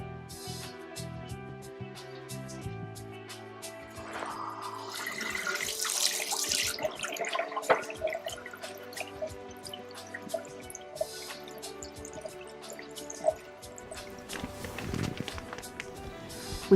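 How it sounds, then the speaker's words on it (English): Running tap water splashes into a sink as hands are washed before a sterile urinary catheter procedure, with a steady flow, intermittent drips and clatter, at moderate volume and without talk. "I'm going to go wash my hands."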